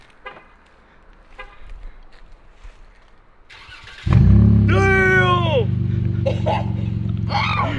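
A Dodge Charger V6 fitted with a new aftermarket exhaust barks into a loud rev and then holds a steady rumbling drone near the listener, while people talk excitedly nearby before and during it.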